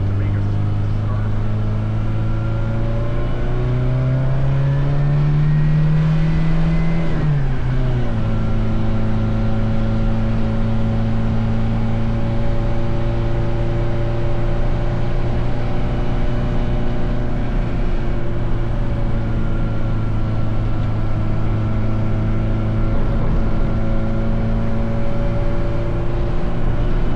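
A car engine drones steadily while driving, one brief rise in revs early on before settling back to an even hum, with people talking quietly over it.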